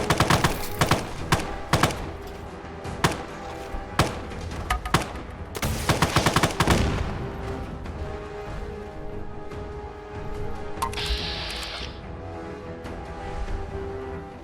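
Gunfire rings out in sharp, loud bursts and single shots, densely spaced at first and then thinning into a steady rumbling backdrop with a few more distant reports.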